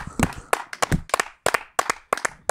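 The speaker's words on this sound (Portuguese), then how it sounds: "palmas para o Passos" A small group claps for the Paços de Ferreira club amid the stadium atmosphere at a Euro match between Portugal and Turkey, about nine sharp, uneven hand claps near the microphone, broken by brief gaps.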